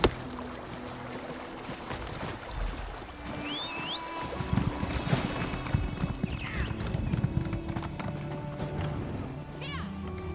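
Horse hooves gallop in The Elder Scrolls Online with a continuous rhythmic clip-clop under game music and ambient sound, moderately close, with a few brief whinny-like tones.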